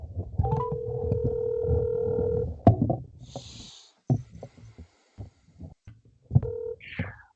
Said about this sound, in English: we're going to give him a little call here